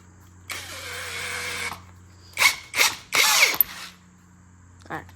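An older-generation Mellif cordless drill, its battery down one bar, runs in a long steady whir, then gives several short trigger pulls in quick succession and a final brief burst, close and loud.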